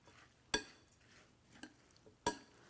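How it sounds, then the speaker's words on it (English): Tabbouleh salad being stirred and tossed in a bowl, giving three sharp clinks of a utensil against the dish spaced about a second apart over a soft, quiet background. "Stir this together, toss it together"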